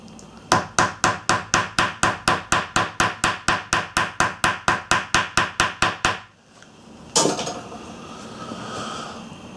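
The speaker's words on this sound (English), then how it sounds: "we've got a hammer for that. Let's get rid of the lumps and bumps." A hammer pounds stitched leather flat with about twenty-five evenly spaced, sharp, close blows in a quick steady rhythm, then stops, followed by a softer rustle of the workpiece being handled.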